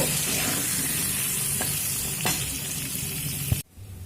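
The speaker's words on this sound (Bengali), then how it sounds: "দেখুন আলুর তো ওদিকে ভাজা হচ্ছে" Potatoes frying in a pan with turmeric and salt give a constant close sizzle with a couple of light stirring taps, then the sound drops away abruptly near the end. No voices.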